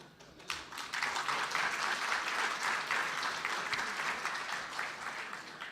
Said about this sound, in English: clapping their hands every sentence